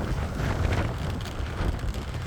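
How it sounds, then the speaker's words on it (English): Steady wind roars and buffets across the microphone without a break while cycling outdoors, loud and rumbling, with no voices. "Wow, it's windy today."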